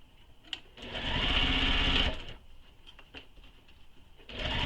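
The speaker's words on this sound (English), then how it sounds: "So I'm starting on the zipper tab when I'm sewing." A sewing machine stitches a backpack panel, starting at the zipper tab: one close, steady whirring run of about a second, then it drops back to quiet handling noise before starting up again at the end.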